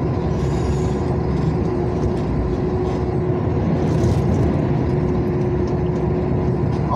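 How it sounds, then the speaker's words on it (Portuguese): A convoy of trucks passes on the BR-116 highway in heavy rain, a continuous loud rumble of engines and tyres on a wet road with a steady hum, close by and unbroken throughout. "Esses comboios formam tudo porque não tem terceira faixa, galera."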